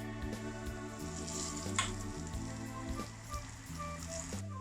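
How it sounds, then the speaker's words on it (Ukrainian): Soft, steady sizzling of flour frying in oil in a pan, with music playing over it. "І тепер підсмажуємо, помішуючи до золотистого кольору"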